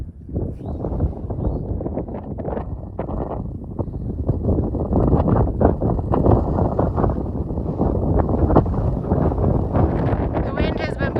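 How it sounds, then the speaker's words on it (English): Strong wind on a treeless mountain stretch of the Appalachian Trail buffets close and loud as a continuous rumbling roar, growing heavier after the first few seconds. "The wind has been blowing me sideways."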